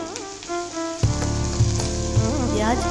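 Onions drop into hot oil, which sizzles steadily and hisses loudly, with a constant crackling fry close by.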